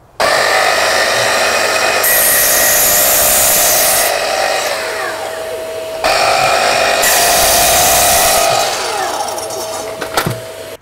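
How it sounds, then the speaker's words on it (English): Mitre saw squaring off the ends of reclaimed scaffold boards, two loud whining cuts in a row, each with the motor spinning up, biting through the wood and spinning down, recorded close. "we're just over it at the mitre saw. We'll cut the square off the ends of these"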